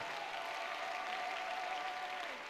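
A congregation at a mass prayer service applauds with a dense, steady wash of clapping that holds evenly throughout, heard from some distance at moderate volume, with a faint sustained tone running underneath.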